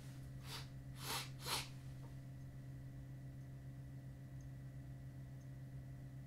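A person takes three quick, sharp sniffs of a pinch of dry Sans Souci snuff close by, clustered in the first two seconds, then only a steady low hum remains.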